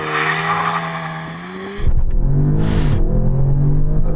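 A 2-litre turbocharged quattro car launches from 0 to 60, a loud engine note that drops briefly at a shift and then surges again with tyre noise, close and sustained.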